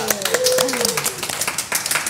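A small group claps hands in an Indonesian podcast studio: scattered, fairly close claps patter through the second half, mixed in with talking and laughter.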